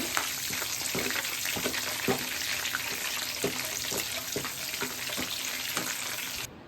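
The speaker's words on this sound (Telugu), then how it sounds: "ఇప్పుడు అదే ఆయిల్లోని నేను కరివేపాకు, 4 జీడిపప్పులు, కొంచెం పచ్చిమిర్చి వేయించుకుంటున్నానండి." Curry leaves, cashews and green chillies frying in oil, a dense, bright crackling sizzle throughout, punctuated by regular stirring taps and scrapes, cutting off abruptly at the end.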